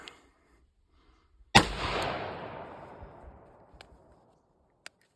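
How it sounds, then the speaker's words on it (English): A single sharp revolver shot rings out loud and close, its blast decaying over a couple of seconds, followed by a few faint clicks and one more brief tap near the end, with no talking. "So, see if it'll fire."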